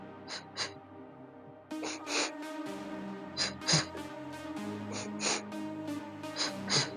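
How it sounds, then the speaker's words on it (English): A double breath in during a Pilates breathing demonstration: two quick, sharp nasal sniffs repeated in a rhythmic pattern, close and fairly quiet, with no talking. "Here you would do a double breath in"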